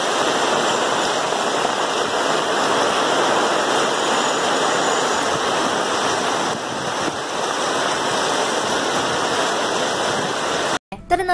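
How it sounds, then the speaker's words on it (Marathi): A river swollen by storm rain rushes in a dense, continuous roar of flowing water, steady and loud throughout, with a brief disturbance near the end. "तर नद्या दुतडी भरून वाहू लागल्यात."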